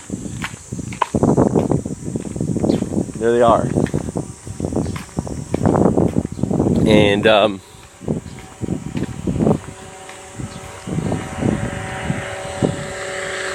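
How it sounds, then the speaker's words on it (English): A small remote-control helicopter spraying pesticide over Japanese farmland at dawn drones and buzzes faintly in the distance, mostly beneath someone talking outdoors, with footsteps and rustling nearby. "that's the noise of a helicopter, small helicopter, putting down pesticides."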